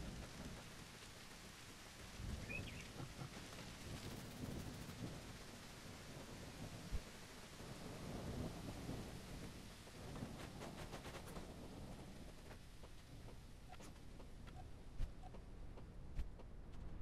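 Summer thunderstorm in the survival game No One Survived: steady heavy rain drumming on surfaces, with low rolling thunder rumbling beneath and a few sharper cracks breaking through over seventeen seconds.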